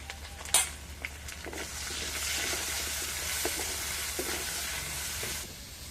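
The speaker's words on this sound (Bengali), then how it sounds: "এই যে সামান্য হলুদ গুঁড়ো দিয়ে দেবো দিয়ে আলুটা আমি ভেজে নেবো" Potatoes seasoned with salt and turmeric fry in oil, giving a steady moderate sizzle after a sharp clatter near the start, with occasional small pops and no speech.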